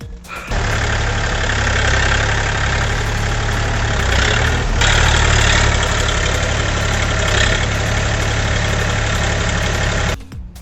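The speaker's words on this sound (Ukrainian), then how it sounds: "По поводу двигателя трициліндровий вертикальний двигун." A small three-cylinder vertical diesel engine on a 24-horsepower DW 244 AN mini tractor runs steadily at idle with a throbbing, knocking rhythm, close and loud, then cuts off near the end.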